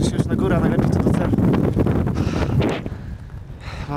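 Strong wind buffets the microphone in a loud, steady roar on a winter mountain trail in the Karkonosze, with a voice talking through the gusts before it eases slightly near the end.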